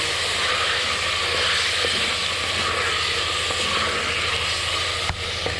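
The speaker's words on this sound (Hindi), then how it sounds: "अब हम फिर थोड़ा सा फ्राई कर लेते हैं" Chopped ginger and garlic frying in a pan for a desi chicken dish, a dense continuous hiss of sizzling oil, loud and close, with no talk over it.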